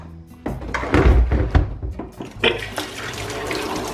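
Tap water runs into a large container being filled for hurricane supplies, a gushing rush with knocks and thunks of the vessel, rising and changing as it fills, close by and fairly loud.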